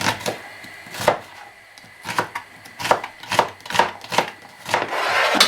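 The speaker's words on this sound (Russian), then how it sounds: "теперь немножко порежем лук" A knife chops through onion on a board in a series of sharp, irregular cuts, close and fairly loud, with a brief rustle at the end.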